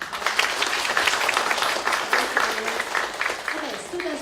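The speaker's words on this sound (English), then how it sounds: "please give them a warm round of applause." An audience at a biomedical science conference applauds the presenters, a dense, steady wash of clapping that stays fairly loud for the whole few seconds, with no voices standing out.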